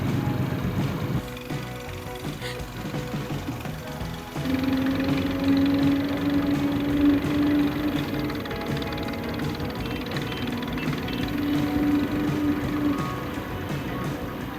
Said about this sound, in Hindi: ये नन्ही सी परी ट्रैक्टर चला रही है